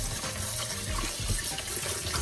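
Tap water runs steadily and close by as oxtail meat is rinsed under it, a continuous rushing splash with no talk.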